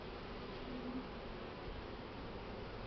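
Honeybees buzzing steadily during the splitting of a swarmed colony into nucleus hives, a faint, continuous hum close by with no talking.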